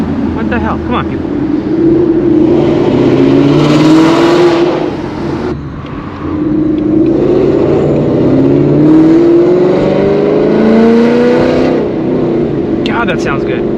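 Straight-piped Ford Mustang S550 exhaust revs in a raspy, rising roar, with two long sweeping pulls separated by a brief dip, loud and close over a steady road rumble.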